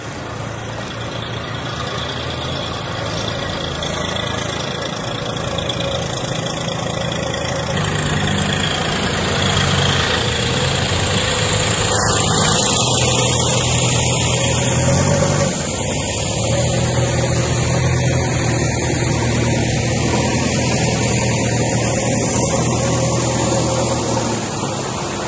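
A tractor engine runs during a flood rescue at a district collectorate, where staff are being ferried out with tractors and JCPs; a steady, loud low idling drone that holds unbroken for the whole stretch.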